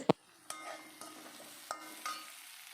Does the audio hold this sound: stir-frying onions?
yes